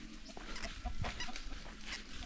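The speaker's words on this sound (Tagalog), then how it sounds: "may chicken pa tayo dito, laki yan o" A large native chicken clucks softly on a farm, short low calls heard faintly at a distance over a steady outdoor background.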